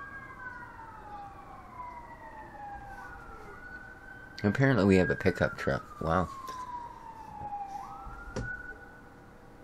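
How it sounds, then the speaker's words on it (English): Wailing sirens rise and fall over steady road noise in Farming Simulator 17 on the Upper Lusatia map, with a short burst of clattering sound and someone speaking briefly partway through. "That's an awful lot of sirens stopping."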